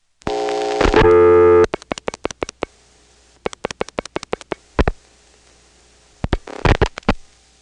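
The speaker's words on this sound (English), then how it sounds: "This particular trunk does have the Dale City reorder in the background." A telephone reorder tone on a Dale City step-by-step trunk in Prince William County, Virginia, sounds as a short, buzzy tone. Irregular sharp mechanical switching clicks and a few brief tone bursts follow over a quiet line.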